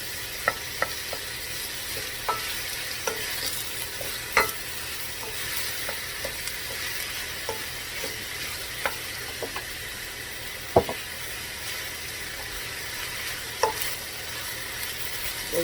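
Chicken rasta pasta with scallions sizzles steadily in a pan, a constant frying hiss broken by scattered sharp clicks and scrapes of stirring, close and alone without speech.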